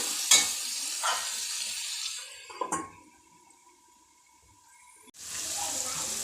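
Carrots and beans fry in oil over a medium flame for pulao, with a close sizzle and a few stirring clinks that fade to near quiet midway, then the hiss swells back.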